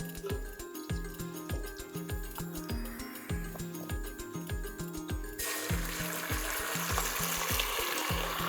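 Ginger garlic paste frying with onions in hot oil gives a steady, loud sizzle that grows fuller partway through, accompanied by a regular thumping beat underneath.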